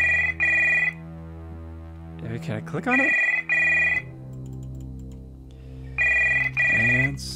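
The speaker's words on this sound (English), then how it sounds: "Behind the door, a phone starts to ring." A telephone rings in bursts behind a door inside a video game, the trilling bell coming in three repeated rings with pauses between, while a person talks briefly over it.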